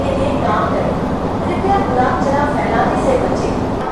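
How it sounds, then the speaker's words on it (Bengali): A Sealdah–Bangaon AC local train running and passing through a station, giving a loud, steady rumble throughout with a murmur of voices in the background. "আর একটা স্টেশন ক্রসিং করছে।"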